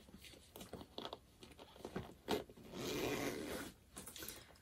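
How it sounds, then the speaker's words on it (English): A zipper is unzipped on a sewn satchel bag, a drawn-out rasp in the middle heard alone and close, set among soft handling clicks and fabric rustles. "Unzipping your zipper at this point is handy, helpful, suggested."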